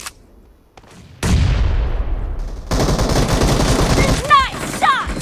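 Gunfire and blasts in BGMI PUBG Mobile team deathmatch, with a sharp loud report followed by sustained rattling fire and game effects, close and dense.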